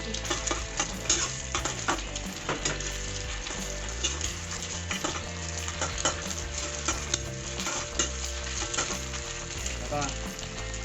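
Egg and naem, Thai fermented pork, stir-fry in a hot pan for fried rice, with a continuous loud sizzle and repeated scraping strokes of the spatula.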